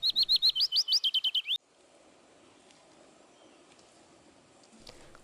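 A willow warbler's bright, rapid song of descending whistled notes rings out clearly for about a second and a half, then fades to quiet outdoor ambience.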